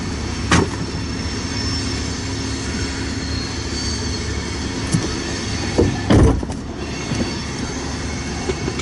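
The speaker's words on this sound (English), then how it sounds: "The train's on the Sioux City sub." Freight train rolling past on the Sioux City subdivision near Ashland, Nebraska, a continuous loud rumble of cars with wheel clatter and occasional sharp squeals, no voices.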